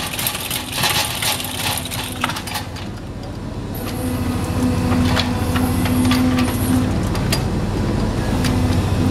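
A remote-controlled machine cuts holes for the Ayacucho tram track in Medellín, producing a loud, steady mechanical rumble with a droning whine, scattered metallic clanks and ticks, and a rising hum partway through.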